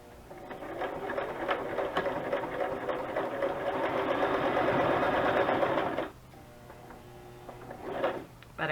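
An electric sewing machine runs a steady straight stitch around a crochet piece for about six seconds, stops, then whirs briefly again near the end, close and alone.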